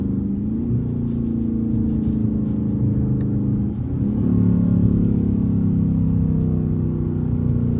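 A Dodge Charger RT's engine drones loudly under acceleration from inside the car, with a sustained whine, a brief dip and then a renewed, steady pull.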